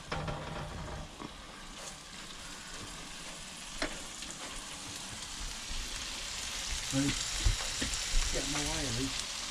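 Chicken browns in a pan inside a motorhome, giving a steady, fairly quiet sizzle and crackle throughout, with occasional scrapes and stirring knocks and a faint voice briefly audible near the end.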